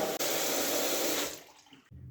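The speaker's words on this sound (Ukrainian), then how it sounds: "Ось так біжить у нас водичка." Cold water runs steadily from a tap into a sink, a broad close rushing hiss that cuts off near the end, leaving a quieter trickle.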